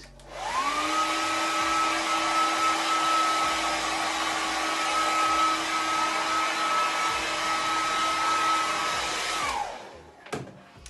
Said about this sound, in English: So a quick blitz with a hairdryer can be on a low setting